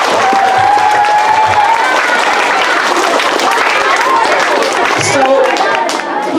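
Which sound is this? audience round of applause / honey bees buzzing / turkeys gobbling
audience round of applause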